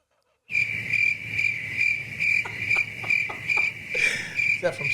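Crickets chirp in steady rapid pulses, a close and fairly loud insect trill repeating in short bursts after a brief silent start.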